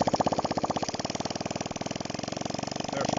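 Honda Cub 90 motorcycle engine running after starting, a steady rapid single-cylinder putter with evenly spaced firing pulses, close and fairly loud throughout with no talking.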